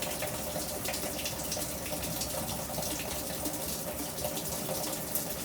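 A Whirlpool WTW5000DW washing machine fills with water, a steady, fairly faint rushing gush that runs on without a break, alone and unchanging.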